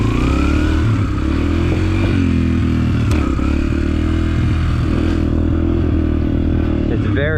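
A dirt bike engine runs close by, a loud continuous rumble with small rises and dips in pitch, and a brief higher rev near the end.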